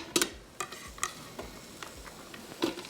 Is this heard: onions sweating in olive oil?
yes